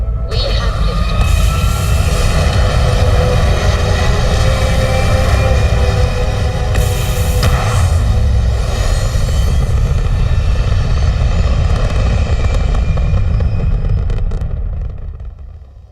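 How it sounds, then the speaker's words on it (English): A spaceship lifting off in Starfield Shattered Space, a loud steady engine roar with rising tonal whine and a brief burst midway, fading out at the end while a voice speaks over it. "Systems are nominal. We are ready to depart. We have liftoff."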